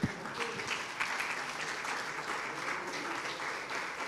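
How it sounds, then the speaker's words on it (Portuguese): Church congregation applauding together during a service, a dense, steady wash of clapping that holds for the full length at moderate loudness with no voices on top. "Fique de pé e aplaude o Senhor."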